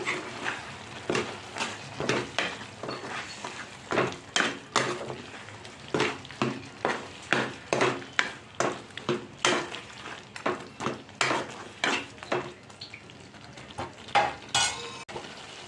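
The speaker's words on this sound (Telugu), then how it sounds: "ధనియాల పౌడరు, మటన్ మసాలా, కొత్తిమీర వేసేసి కలయబెట్టుకోవాలి." Mutton curry being stirred after coriander powder, mutton masala and fresh coriander go in, a spoon scraping and clinking against the pot in steady repeated strokes, close and fairly loud over a faint sizzle.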